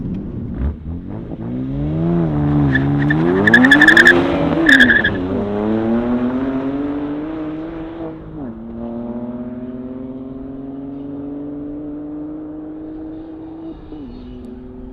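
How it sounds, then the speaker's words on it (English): A BMW M2 Competition and a six-speed manual M140i drag race, engines revving hard and climbing through gears with a burst of tire squeal, then settling into a loud steady drone that slowly fades. "Ultimately, the M2 competition is a quicker car in a traditional drag race."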